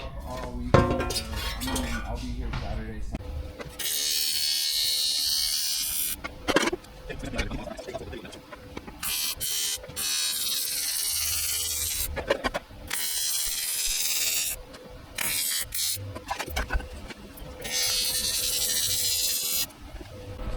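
Welding along a chassis transmission tunnel produces a crackling electric buzz in repeated bursts of several seconds, broken by short pauses and faint metallic clinks.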